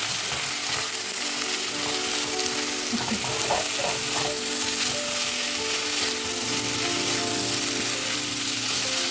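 Smoked sausages and fresh carrots sizzle steadily in a frying pan as they are stirred together, a continuous close frying hiss with a few soft scraping clinks from the utensil.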